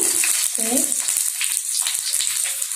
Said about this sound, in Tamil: இப்போ நம்ம கிண்டுவோம். வதக்கிக்குவோம்.